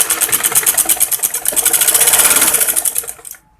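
A normal domestic sewing machine runs continuously, stitching embroidery on a kurti neckline. It makes a close, loud, rapid rhythmic whir that slows and stops at the end.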